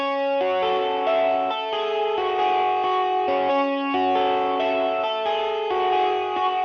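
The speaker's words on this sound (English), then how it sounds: "this is what this part of the main guitar melody sounds like." A sustained, saturated electric guitar melody with a washy reverb tail, notes changing in steady phrases, played alone at a strong level.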